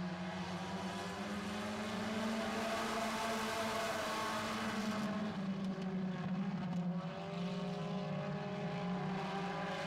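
Four-cylinder pure stock cars roar off together at the start of a heat race, their engines forming a steady, droning chorus of harmonic tones that swell and shift as the pack runs on.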